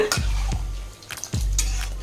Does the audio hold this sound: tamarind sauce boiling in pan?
yes